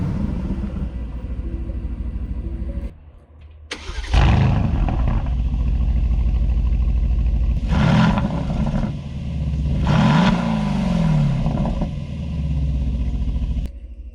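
Aston Martin Vantage with a 4.0-liter twin-turbo V8 revving loudly up close, a steady roaring idle broken by a short lull and then several sharp throttle blips that surge and fall away.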